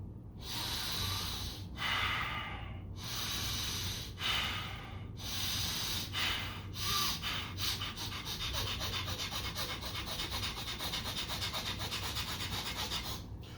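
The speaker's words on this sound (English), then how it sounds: "when I do my fire breathing, my belly gets bigger and smaller, slow at first, then it goes faster" Fire breathing from yoga practice: forceful breaths through the nose come in bursts, slow and spaced at first, then quickening into a rapid, even, rhythmic pumping that carries on to the end.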